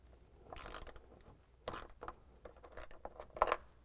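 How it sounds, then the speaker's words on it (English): A wrench works loose a nut on an alternator stud in a series of quiet, irregular metallic clicks and ratcheting ticks, spaced apart and close by. "I'm going to take the wrench and just loosen."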